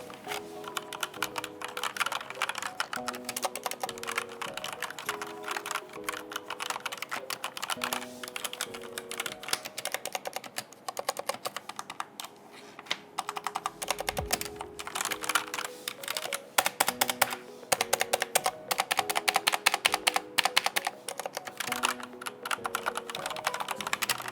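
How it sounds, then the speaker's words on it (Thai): Typing on a Razer BlackWidow V3 gaming keyboard with silent linear optical switches, a steady run of soft, dense keystrokes lasting throughout, close and even, with no talking. "เดี๋ยวให้ลองฟังกันดูนะฮะ จะเป็นเสียงการพิมพ์"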